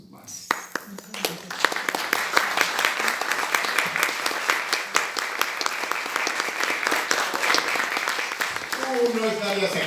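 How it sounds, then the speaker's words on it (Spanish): An audience at a doctoral examination ceremony bursts into loud, sustained applause, many hands clapping densely for several seconds, with voices mixed in under it. "Un aplauso a tu madre."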